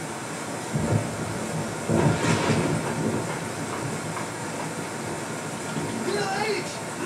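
Rumbling rail noise from a train in the horror video game Rise of Nightmares, a steady low rolling clatter with a few heavier thumps, playing fairly quietly under room background.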